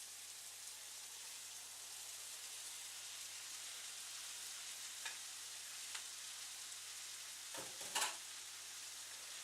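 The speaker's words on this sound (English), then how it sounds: "I'm going to add the vegetables" Vegetables sizzling in a frying pan with tofu, heard as a quiet, steady crackling fry with a few soft clicks and a brief stir near the end.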